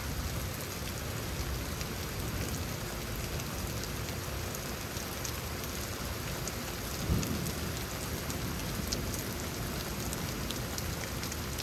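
Rain from a lightning storm in Houston, Texas falls in a steady, dense hiss, with a single soft, low rumble partway through and no voices.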